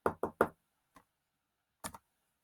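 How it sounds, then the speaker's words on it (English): Light knocking on a restaurant door: three quick taps, a faint single tap, then a final double knock, crisp and close in an otherwise quiet room. "she heard a light tap on the door of the restaurant"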